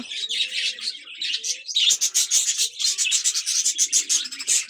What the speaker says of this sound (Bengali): চলে আসলাম পাখিদের কাছে। তো দেখো পাখিগুলো যার যার জায়গাতেই আছে